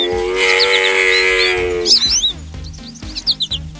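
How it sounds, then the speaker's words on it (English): A sparrow chirps with quick, high tweets, first faint under a sustained tonal hum, then in short loud bursts near the end. "This is a sparrow."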